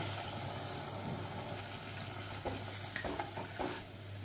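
Faint, steady stirring of potatoes and pointed gourd in a pan after milk is poured in, a soft low sizzle with a few light scrapes and clinks near the end, no talk.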